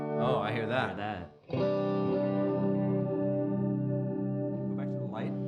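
A G211 delay pedal set to light modulation carries a sustained electric guitar chord that rings on with a faint wavering shimmer and repeating echoes, after a short strummed phrase and a brief gap.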